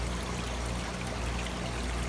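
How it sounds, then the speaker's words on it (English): A 75 filter returns water into a 55-gallon fish tank, making a steady, close trickling and pouring wash that runs evenly without pause, with no voices over it. "you can see the filter right there working perfectly as it should"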